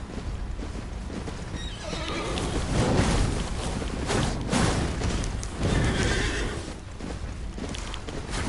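A horse in Elden Ring neighs loudly in a few drawn-out whinnies, mixed with the clip-clop of hooves and broad in-game ambience, with no talking.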